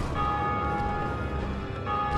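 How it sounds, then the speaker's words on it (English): A bell tolls in Dark Souls after the gargoyles are beaten on the server, its sustained ringing tone hanging steadily over a dense game background. "I hear a bell. That would just be someone else on the server who beat the gargoyles."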